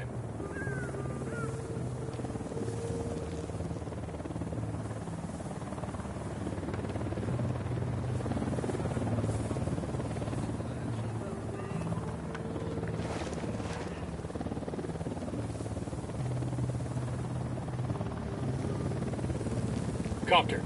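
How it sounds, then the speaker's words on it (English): A helicopter in a PS4 military shooter approaches with a steady low rotor drone beneath continuous game ambience, holding level throughout with faint background noise. "We got a chopper coming in."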